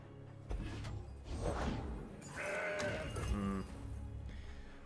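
A Mountain Goat card in the Legends of Runeterra card game gives a couple of short, nasal bleats over busy in-game music and whooshing effects, with no talk.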